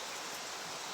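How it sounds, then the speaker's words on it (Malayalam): Heavy rain in Idukki makes a dense, steady hiss of downpour, loud and continuous with no voices. "ഇപ്പോൾ ഭയങ്കര മഴയാണ്"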